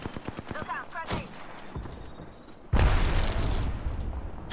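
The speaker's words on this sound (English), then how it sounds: "Look out, grenade." A video game grenade blast booms loudly and fills the mix for nearly two seconds. Before it, quieter game sounds and a player's voice are heard.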